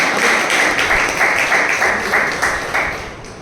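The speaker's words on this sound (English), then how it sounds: "Please welcome him with a big round of applause" A Toastmasters club audience applauds to welcome a member, dense steady clapping from many hands that holds loud and then slowly tapers off toward the end, with no voices over it.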